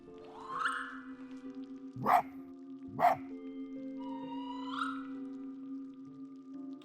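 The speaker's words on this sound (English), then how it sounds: "the bark in this game is much different" Fox barking in the video game Spirit of the North: two sharp, doglike yips about a second apart over a sustained musical drone, with soft whooshing swells before and after.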